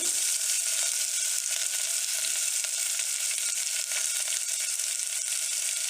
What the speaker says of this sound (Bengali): আগুনটা আমাদেরকে মিডিয়াম ফ্লেমে রেখে এগুলো অল্প ফ্রাই করতে হবে।